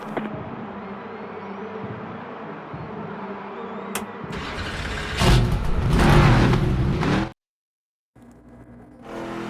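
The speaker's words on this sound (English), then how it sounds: "Drivers, start your engines!" Race car engines in the NASCAR 25 video game fire up and rev before an ARCA Menards Series race at Talladega, a steady drone swelling into loud broadband revving, cutting off abruptly, then resuming more quietly.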